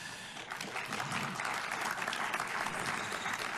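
Steady audience applause with crowd clapping, continuous and fairly loud throughout, with no talk over it.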